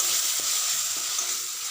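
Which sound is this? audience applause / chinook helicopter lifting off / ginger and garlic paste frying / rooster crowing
ginger and garlic paste frying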